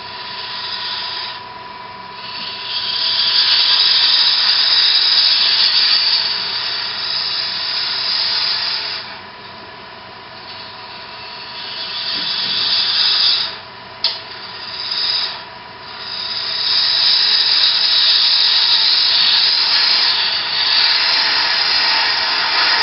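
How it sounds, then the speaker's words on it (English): A scraping tool shears across the end grain of a wooden sphere spinning on a wood lathe, giving a steady close hiss that breaks off briefly a few times midway before resuming, with no talking. "Again, I'm doing a shear scrape"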